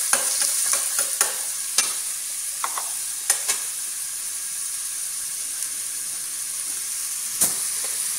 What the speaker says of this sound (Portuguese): Colocando uma colher bem cheia, esse pimentão picadinho.